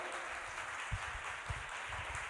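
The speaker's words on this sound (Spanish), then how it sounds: "Fuerte aplauso para Yara y Federico." A live music audience applauds the performers with a continuous, dense wash of clapping heard at a moderate distance, steady throughout, with no voices on top.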